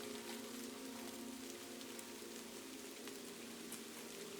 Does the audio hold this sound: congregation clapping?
no